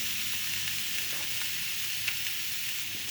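Moose steak sizzling medium rare on a grill without its grate, a steady, close, even hiss of frying that holds unbroken throughout with a few faint pops.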